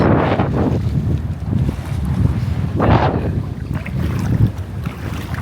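Strong wind buffeting the microphone at Caravelle beach in Guadeloupe, loud rumbling gusts surging and easing in waves with no talk.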